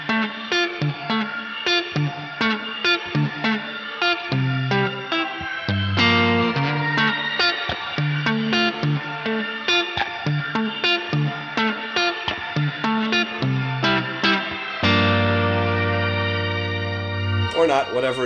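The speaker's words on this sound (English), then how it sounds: "You can isolate the shimmer by turning down on the reverb depth like this." A Neunaber Seraphim shimmer reverb pedal in mono, set to isolated shimmer with the reverb depth turned down, plays sustained, pitch-shifted guitar chords in a dense, continuous wash that ends on a long held chord.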